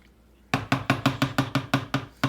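Dried mashed potato flakes stirred into milk in a bowl, heard as a brisk, evenly spaced series of sharp clacks from the utensil, about eight strokes, close and distinct over a quiet background.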